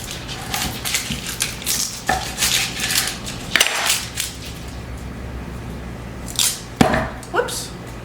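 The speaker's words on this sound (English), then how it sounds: "I've got kind of a medium onion here, and I'm just going to cut this kind of in some larger pieces." A knife chops a medium onion into large pieces on a cutting board, giving a series of crisp, irregular knocks and slices at close range over soft background noise.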